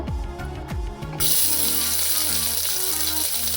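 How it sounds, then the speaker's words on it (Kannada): After some kitchen clatter, a sudden loud sizzle erupts as chopped onions hit hot oil for sambar tempering, then continues as a steady crackling fry. "ಈ ಈರುಳ್ಳಿ ಕೆಂಪಾಗೋವರೆಗೂ ಫ್ರೈ ಮಾಡ್ಕೋಬೇಕು."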